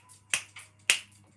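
Several crisp finger snaps ring out in a quiet room: a faint one, then two sharp, close, loud snaps spaced about half a second apart, with a soft snap between them.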